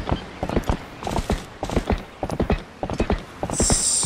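Horse hooves clip-clop in The Legend of Zelda: Twilight Princess HD, a steady run of close, crisp hoofbeats in a quiet village clearing, with a brief high whinny-like tone near the end.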